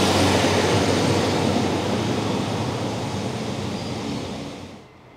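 A train rolling into Farnworth station in Bolton, a steady broad rumble and rush of wheels and carriage noise that gradually eases and fades at the close.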